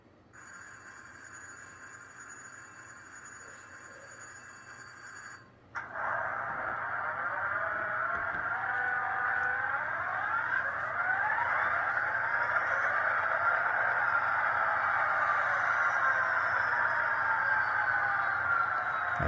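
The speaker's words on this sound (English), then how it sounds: "I got a startup of an SD45." A Tsunami 2 sound decoder in a model locomotive plays an SD45 diesel startup with turbo. A steady electronic hum gives way to a clunk, then loud engine tones climb and settle into a sustained drone.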